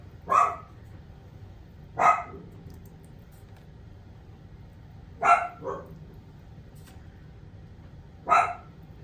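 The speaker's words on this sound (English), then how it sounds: "Sorry, you're hearing my little guard dog." A small guard dog barks in short, sharp bursts spaced a couple of seconds apart, four or five barks over a low steady background hum indoors.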